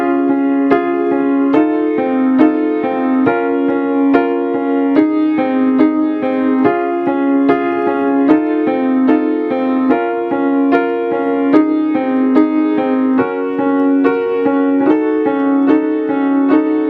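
Solo piano playing the pre-chorus of a piece: a steady, even pattern of repeated notes and chords at moderate volume, close and continuous with no voices.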